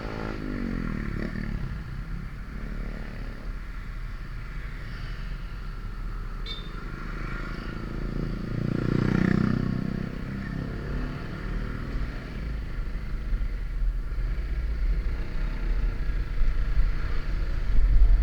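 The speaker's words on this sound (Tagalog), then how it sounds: "grabe, ang taas ang mga motor nila" Motorcycles with riders pass along a road under repair, a continuous rumble with a swelling engine pass near the middle, heard over steady traffic noise.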